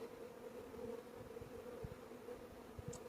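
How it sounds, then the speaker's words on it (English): Honeybees fanning at a hive entrance make a faint, steady, low buzzing drone that carries through the whole stretch without a break. "They got their butts up in the air and they're fanning."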